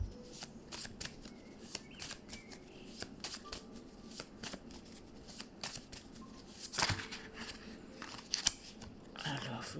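Tarot cards riffled and shuffled by hand in a steady stream of soft papery flutters and snaps, close and fairly quiet, with a few sharper slaps near the end.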